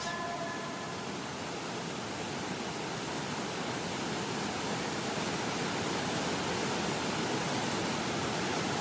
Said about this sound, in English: The Quang Si waterfalls are a miracle of nature and a magnet for visitors.